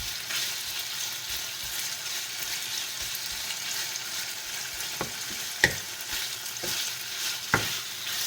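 Kwetiaw noodles stir-fry in a hot wok with Shaoxing wine, a steady close sizzle punctuated by a few sharp clanks and scrapes of the spatula against the pan.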